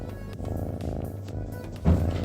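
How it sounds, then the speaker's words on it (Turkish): Close, quiet purring from a cat rumbles on evenly, swelling slightly louder near the end, with no voices. "Kedi mırıltısını bir kez daha dinliyoruz."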